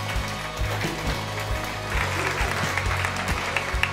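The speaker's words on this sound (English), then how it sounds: "Give her a huge round of applause." Applause from a magic show audience as a woman is invited on stage, dense continuous clapping that swells and stays loud across the room, with a voice faintly under it.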